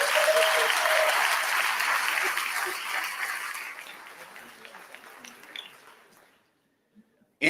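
A theater festival audience applauds its honorees at a gala with loud, dense clapping that slowly thins and fades over about six seconds into near silence, followed by a couple of faint knocks.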